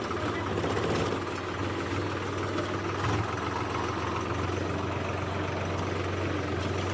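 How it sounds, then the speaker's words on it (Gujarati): A tractor engine idles close by on a farm, a steady low mechanical drone with an even rhythmic chug that continues unchanged for several seconds. "ફાઇનલી ગાઈસ આપણે ટ્રેક્ટર હાંકવા માટે આવી ગયા ને આપણે હાંકવા આવ્યા"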